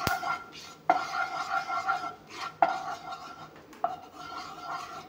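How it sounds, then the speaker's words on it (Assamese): Chili powder frying in a pan for a fish curry, with scraping stir strokes of a utensil against the metal and three sharper clanks at intervals over a steady low sizzle. "এতিয়া ৰংগুড়াখিনি অলপমান ভাজি দিছোঁ।"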